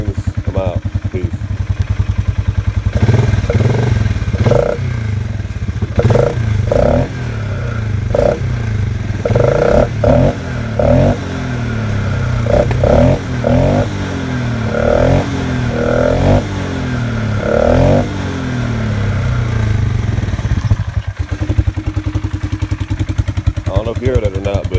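A 2019 Polaris Sportsman ATV fitted with a trail snorkel, its engine idling loudly up close and revved in a series of short bursts with rattling and clatter, a voice talking over it.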